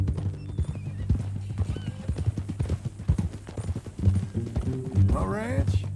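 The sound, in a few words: horse hooves and neigh in video game Red Dead Redemption 2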